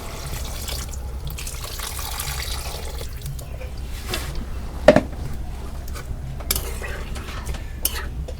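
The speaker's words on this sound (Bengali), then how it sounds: "এখন আমি ঝোলের পানি দিয়ে দিই" Water is poured into a curry of tomato, half-boiled potato and rupchanda fish in a Bangladeshi-style kitchen, with a low, steady wash of liquid, a sharp clink of a utensil and light stirring clatter.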